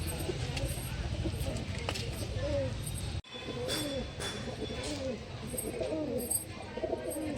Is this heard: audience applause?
no